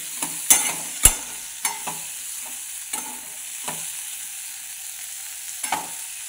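A spatula stirs green tomato chutney, village style, in a pan over a low gas flame: a string of irregular scraping strokes, a few sharp and close, with a soft sizzle between them and no talk.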